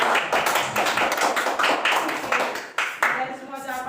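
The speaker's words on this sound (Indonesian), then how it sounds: "Tepuk tangan untuk kelas." A classroom of schoolchildren claps together in a steady burst of applause, close and fairly loud, tapering off toward the end.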